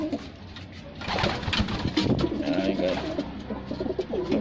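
Several pigeons fight at a loft, cooing and flapping in a busy scuffle nearby, wings beating and throaty calls overlapping continuously.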